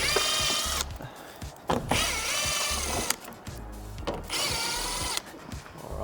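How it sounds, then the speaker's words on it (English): Impact wrench fitted with a 10 mm socket removing body bolts from a GR Corolla, several loud rattling bursts of hammering with short quiet gaps between them, close up and without speech. "So I'm just gonna use the impact from before with the 10 mil."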